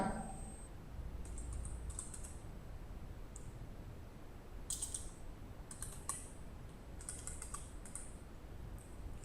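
Text typed on a computer keyboard, faint, light key taps in small irregular bursts over a steady low hiss.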